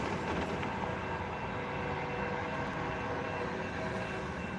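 A train rumbles past at a distance, a steady broad roar with faint metallic tones, fairly quiet and unchanging.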